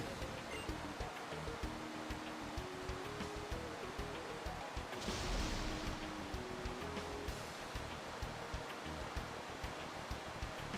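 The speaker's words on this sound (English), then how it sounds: "This rain." Steady heavy rain downpour in Pokémon Alpha Sapphire, a continuous broadband hiss under a low looping musical melody, swelling briefly louder midway.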